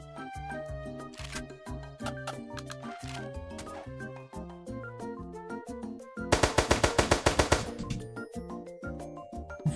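Gunfire in a fight in the Roblox game Apocalypse Rising 2, with dense rapid shots running throughout over game music and a loud automatic burst of repeated shots near the end.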